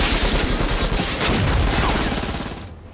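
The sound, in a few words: explosion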